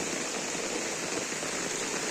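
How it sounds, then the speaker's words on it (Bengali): Heavy rain falling in hilly country, a constant dense patter and hiss of drops that stays steady and fairly loud throughout, with no voices. "ভয়াবহ বৃষ্টি নামছে। আমরা আছি পাহাড়ের মধ্যে"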